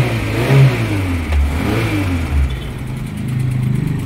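A 1987 Suzuki Carry minibus engine revs in a few close, loud bursts, rising and falling, then settles into a steadier running drone with no talking.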